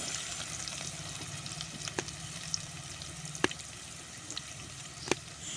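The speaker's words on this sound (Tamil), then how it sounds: "நம்ம கீனி வச்ச பச்சை மிளகாவை போட்டு பச்சை மிளகாவும் கொஞ்சம் பொரியணும்" Slit green chillies fry in hot oil for a fish curry, giving a steady close hiss with scattered small pops and crackles and no voices.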